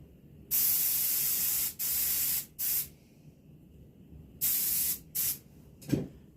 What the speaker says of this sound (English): You got my airbrush again, same color, dark brown.